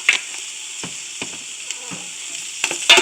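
Chili frying in a pot as garlic powder is stirred in: a gentle, continuous sizzle with scattered spoon scrapes and taps, which grow louder toward the end.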